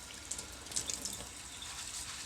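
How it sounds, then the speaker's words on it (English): A thin stream of tap water runs into a kitchen sink to rinse poha, a soft, steady hiss of flowing water with a few faint drips and splashes, close and alone. "So I'm going to take a thin stream of water"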